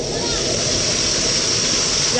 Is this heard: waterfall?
yes